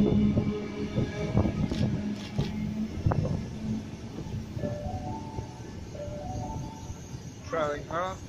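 The heritage Red Rattler set F1 pulls into platform 4 at the NSW Transport Heritage Expo 2018 in Sydney, with low rumbling and squealing under nearby talk and station chatter.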